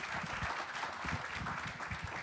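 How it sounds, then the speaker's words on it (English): Audience applause for a panel at a Black student athlete summit, a steady wash of clapping lasting a couple of seconds at moderate level, with no voices over it. "let's give our panelists a round of applause"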